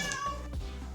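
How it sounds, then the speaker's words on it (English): A house cat meows once, a short close call that sits clearly in the foreground with no talk around it. "my cat Winston."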